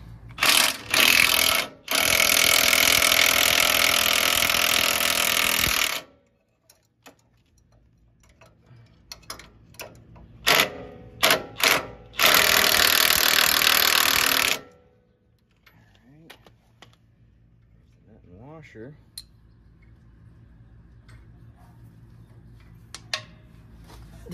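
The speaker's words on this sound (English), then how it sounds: "So we're gonna zip this bottom bolt off." A power tool spins off the bottom strut bolt on a third-generation Toyota 4Runner with a broken strut tower, in two loud sustained bursts separated by short blips, then gives way to quiet clicks and faint handling noises.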